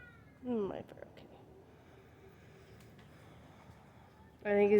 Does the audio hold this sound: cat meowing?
yes